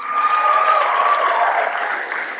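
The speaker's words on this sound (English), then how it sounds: "Round of applause," Audience applause at an Australian Embassy event honouring Claire after her first international goal for Australia, a broad steady wash of clapping with a faint tonal whistle or cheer over it, sustained and fairly loud throughout.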